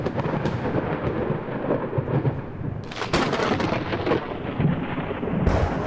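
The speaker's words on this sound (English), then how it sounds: "Just then, a peal of thunder explodes all around you, followed by a wail of molten lightning." Thunder rolls and cracks through a storm, a loud sustained rumble with sharper booming bursts midway and near the end, heard alone without talk.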